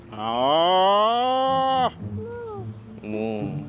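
Cattle on a Normandy-style farm petting park give a long, loud, close moo lasting nearly two seconds, followed by a quieter second bovine call and another brief moo, with some background noise.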